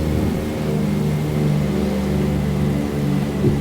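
Twin radial engines of a C-47 cargo plane at full power in Microsoft Flight Simulator 2020, a steady loud droning roar with a low throbbing hum that holds evenly throughout, no voices.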